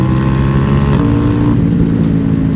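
A Ducati Diavel 1260 motorcycle engine runs steadily nearby with a deep, loud, continuous rumble and a slight shift in pitch partway through, with no talking over it.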